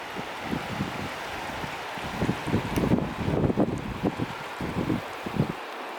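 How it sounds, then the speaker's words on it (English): Gusty wind buffets the microphone outdoors during a backpacking trip, low rumbling blasts rising and falling in uneven pulses, with no speech. "And so, it got kind of windy outside."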